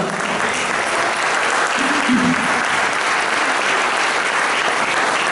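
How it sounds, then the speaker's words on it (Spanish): Loud, sustained applause from a church congregation fills the space evenly, with a short voice or tone rising briefly midway through the continuous clapping. "Y le dan un gran aplauso al Señor."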